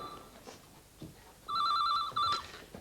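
A telephone rings with a warbling electronic trill, one short burst early and then a longer double ring, loud against a quiet indoor room.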